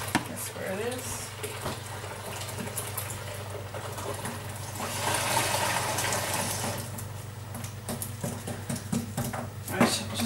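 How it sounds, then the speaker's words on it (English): Water runs steadily into a bucket in a soap-making workspace, a continuous rushing hiss that swells in the middle, with small clinks and low background hum throughout. "I'll just fill that bucket full of water"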